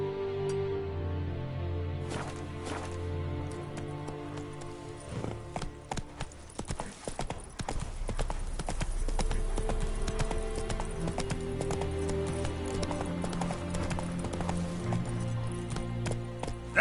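Roach, a horse in The Witcher on PS5, gallops with steady rhythmic hoofbeats, close and prominent, over a continuous game soundtrack.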